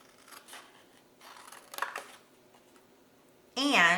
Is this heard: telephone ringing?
no